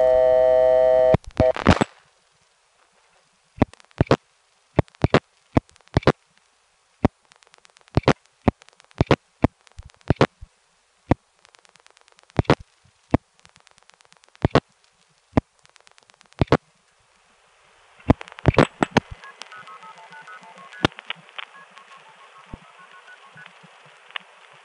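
Telephone line audio on a long-distance call to a New York City number from an old step-by-step exchange: a steady tone at the start, then a long series of sharp, irregular dialing clicks and pulses, ending in a buzzy ringing or signaling tone.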